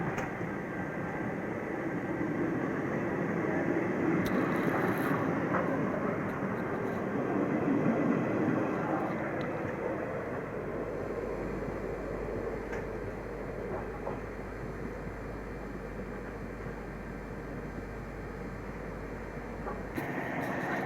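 Humsafar Express passenger train running at speed, a steady broadband rumble and rush of wheels on track that holds loud and continuous throughout, with a low drone building in the second half.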